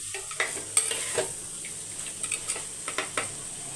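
Meal maker soya chunks sautéing in a pan: a steady sizzle with repeated sharp clinks and scrapes as a spoon stirs and tosses them, close by and with no one speaking.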